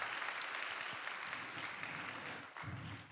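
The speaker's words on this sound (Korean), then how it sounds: "우리 하나님께 영광의 박수," A church youth congregation applauds in praise during a Sunday service, a steady wash of clapping that fills the whole stretch, fairly soft and continuous with a brief dip near the end.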